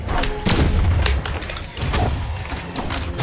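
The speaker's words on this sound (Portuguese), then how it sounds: "Essa bombinha" A bomb goes off in the Brawlhalla fighting game as a loud, booming burst, followed by further thuds and mechanical clanks of combat effects that keep the sound dense throughout.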